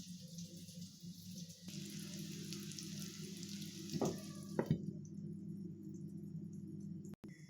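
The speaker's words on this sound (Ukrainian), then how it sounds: "Котлетки смажаться на малому вогні" Low, steady sizzle of chicken cutlets frying gently over low heat in a pan, a soft continuous crackle with a couple of brief clinks partway through.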